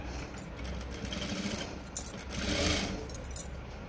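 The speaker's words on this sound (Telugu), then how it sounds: "ఆ కుట్టు మీదనే స్టిచ్చింగ్ చేసుకుంటూ రావాలి" Sewing machine stitching piping along an existing seam line, a steady mechanical whirr running slowly through most of the stretch with a brief clack midway, moderately close and without talk.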